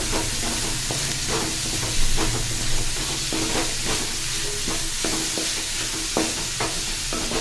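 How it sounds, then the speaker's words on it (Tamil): A ripe tomato, cut lengthwise, is stirred into samba rava upma base sautéing in oil. Repeated scraping strokes of the spoon sound over a constant close sizzle, with no voices. "ஒரே ஒரு பழுத்த தக்காளி எடுத்து நீல வாக்கில் கட் பண்ணி வச்சுருக்கேன் அதை இதோட ஆட் பண்ணி கிண்டி விட்டுறலாம்"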